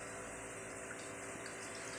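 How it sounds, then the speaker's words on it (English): Volfas Engelman Fizz pear cider pouring into a glass, a faint, steady hissing gush of liquid lasting a couple of seconds, with no talk. "Okay, it's pouring very,"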